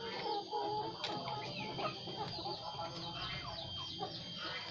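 Chickens cluck and chirp in a busy flock, with overlapping short calls over a steady hiss of background noise.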